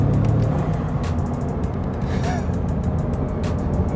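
A 2017 Bugatti Chiron surges at full throttle after a downshift from around 2,500 RPM, a loud, dense, continuous engine and road roar heard from inside the car.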